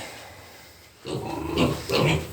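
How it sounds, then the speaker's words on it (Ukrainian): After a second of quiet background, piglets start grunting close by in short rough bursts, growing louder toward the end. "Дійшла черга до поросят."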